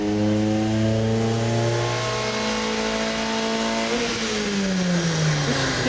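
Mazda Miata spec race car engine revving hard toward 7,000 rpm, a loud, steady rising drone close by, then the pitch shifts and drops briefly before climbing again.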